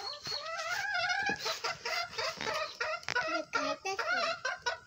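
Several chickens gather nearby, giving loud, repeated clucks and drawn-out squawking calls that overlap in quick, uneven bursts.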